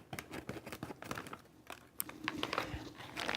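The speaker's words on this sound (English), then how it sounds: "So let me just cut this first pack using the scissors that we have here." Scissors cut open a plastic pack of corn in a quiet kitchen, with irregular snips, crinkles and tearing rustles of the wrapper coming in short bursts.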